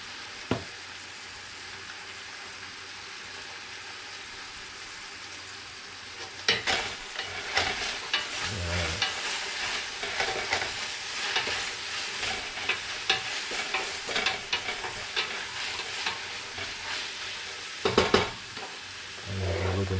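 Squash and zucchini stirred in a frying pan with garlic, herbs and garlic salt, a steady sizzle with quiet stretches that turn to busy scraping and clattering from about a third of the way in, with a few louder knocks near the end.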